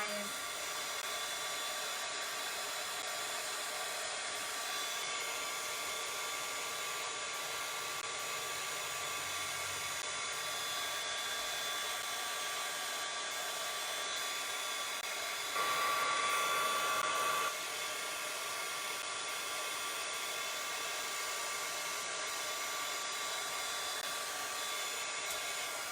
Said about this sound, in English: I don't usually use this as a heat gun, but I had it out because I'm going to be embossing.